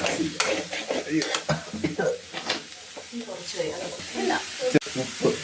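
Pounded dried beef is stir-fried in a pan with scraping stirring strokes and a soft sizzle, while a person talks over it.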